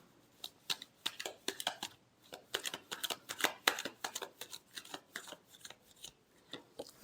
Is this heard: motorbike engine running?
no